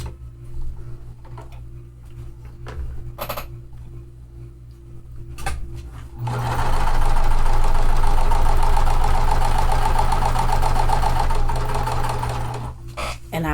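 A sewing machine stitches quilt blocks one after another in a chain, starting with quieter intermittent running before a sustained, loud continuous whir that runs for several seconds and then stops, with no talking.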